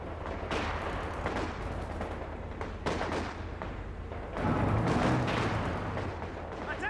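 Machine gun fire in Company of Heroes 2 with a German vs German Spearhead mod: steady rattling bursts and distant battlefield booms at moderate level, with heavier firing late.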